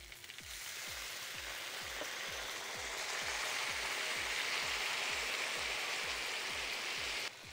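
Meat sizzles loudly and steadily in a hot kazan over cooked potatoes, a dense continuous crackle with a rhythmic low popping underneath, close up and with no talking.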